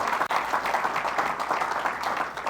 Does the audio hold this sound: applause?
yes